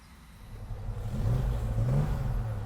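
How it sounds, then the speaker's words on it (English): A Ford Capri 3000 GT XL with an Essex V6 revs up from a low idle-like rumble into a swelling, throaty engine note that rises and holds, heard close with no speech. "Oh, that Essex V6, it just feels special."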